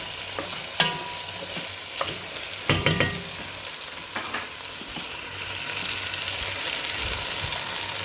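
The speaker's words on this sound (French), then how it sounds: "Je laisse mon vin blanc s'évaporer correctement." Veal stew simmering in a pan as white wine cooks off, a steady close sizzle and bubbling with occasional louder stirring clatters, no talking.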